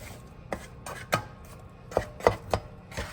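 Apples softening in a skillet, stirred with a utensil: a handful of separate scraping, tapping knocks against the pan at an irregular pace, close and fairly soft, with no voices.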